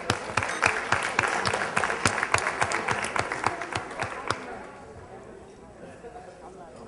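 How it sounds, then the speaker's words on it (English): Luncheon audience applauding sponsors, brisk close clapping for about four seconds that fades off into room murmur. "everyone please give them a round of applause"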